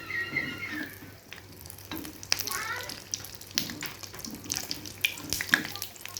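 Eggplant fritters (beguni) fry in hot oil, a soft, continuous sizzle and crackle with scattered pops, fairly quiet and close.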